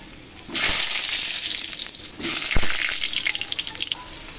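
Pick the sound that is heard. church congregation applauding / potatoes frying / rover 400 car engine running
potatoes frying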